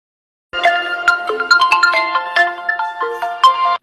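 A phone ringtone for an incoming call from an unfamiliar number plays alone: a bright, melodic synthesized tune of quick stepping notes that starts after a brief silence and continues loudly to the end.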